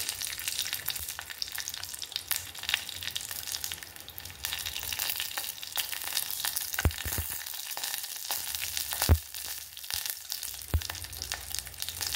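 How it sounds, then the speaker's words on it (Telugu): Dry red chillies and curry leaves crackle and sizzle in hot oil with a steady, close frying hiss, broken by a few sharp pops and spatters near the end. "ఇక్కడ ఎండుమిర్చి కరివేపాకు అయితే వేసుకున్నాను"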